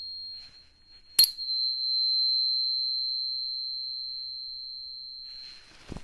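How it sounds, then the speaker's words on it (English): A sharp metallic strike on an angel tuner tuning fork rings out into a pure, high sustained tone that fades slowly over several seconds, then a soft knock at the end. "from the high-pitched sound of the angel tuners"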